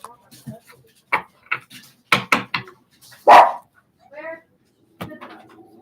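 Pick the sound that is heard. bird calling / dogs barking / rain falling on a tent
dogs barking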